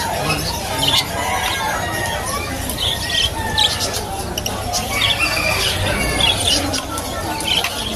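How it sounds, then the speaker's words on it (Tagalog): Lutino parakeets squawk and screech repeatedly at a busy pet market, their sharp calls rising over a constant crowd murmur and nearby talking. "Ito, mga Lutino, mga kaibon. Lutino, paraket."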